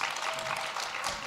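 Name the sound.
audience clapping harder at a conference talk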